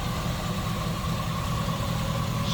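A 1969 Chevrolet Camaro RS/SS with a 327 V8 idles smoothly, a close, steady low rumble with no talk over it.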